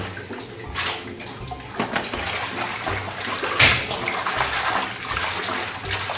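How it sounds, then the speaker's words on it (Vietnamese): Morning glory greens are washed by hand in a basin of water, with steady splashing and sloshing as small bunches are swished and lifted, close and fairly loud with no talk. "Rửa từng nhúm nhỏ nha mọi người."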